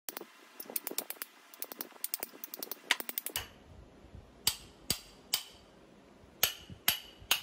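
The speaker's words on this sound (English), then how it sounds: "since I don't have it, I'm using my ball peen hammer" A ball peen hammer strikes an old claw hammer head in quick clusters of sharp metallic taps, then settles into slower, louder single blows spaced about half a second apart, close and with no talk.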